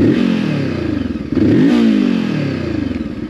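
A Voge 525 ACX motorcycle engine, a 2023 model, runs loud and close, revving up twice with rising and falling pitch sweeps over a steady throbbing idle, with no voices.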